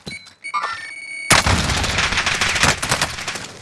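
Gunfire in Call of Duty Warzone: after a few short electronic beeps, loud, rapid automatic shots break out and keep going in dense, rattling bursts.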